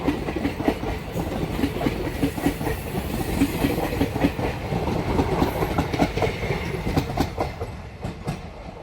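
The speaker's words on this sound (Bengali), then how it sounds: "ভাগলপুর আজিমগঞ্জ প্যাসেঞ্জার অনেক লং ডিস্টেন্সের ট্রেন।" Bhagalpur–Azimganj long-distance passenger train rolling past near Azimganj, a steady loud rumble with rhythmic clickety-clack of wheels over rail joints throughout, fading slightly at the end.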